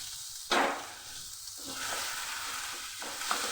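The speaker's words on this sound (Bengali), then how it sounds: "ফুলকপিও আমি একটু ভালো করে নেড়ে নেবো মশলার সঙ্গে" Fried cauliflower is stirred with cumin and coriander powder in a hot pan, a continuous sizzle broken by scraping surges of the spoon, close and fairly loud with no speech.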